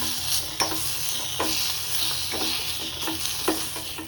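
Tomatoes sizzle in a hot frying pan for a Telugu pepper rasam, a steady close hiss broken by several soft stirring clacks spaced about a second apart.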